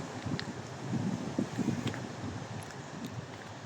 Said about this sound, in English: It's a bit windy again today, but hope it don't spoil the video too much.